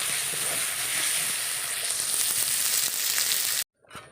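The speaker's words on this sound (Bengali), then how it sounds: "এই যে আলুগুলি দিয়ে ভালো করে কষিয়ে নিচ্ছি" Potatoes sautéing in a hot pan give a loud, dense, continuous sizzle heard up close, which cuts off abruptly near the end and is followed by a brief faint clatter.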